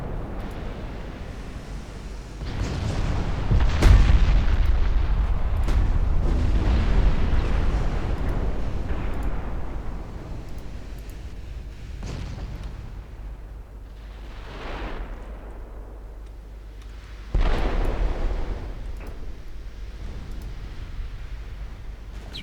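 Heavy 17-inch naval guns firing in the Ultimate Admiral Dreadnoughts naval warfare game: several deep, booming blasts with long rumbling decay, one loud burst early and further thuds spaced out later, with no talk.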